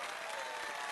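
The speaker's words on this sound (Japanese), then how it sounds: "それでは最後に参加してくれた生徒たちに今一度盛大な拍手を" Dense, continuous applause from a crowd of students at a school ceremony in the video game Fire Emblem: Three Houses, a steady wash of clapping throughout.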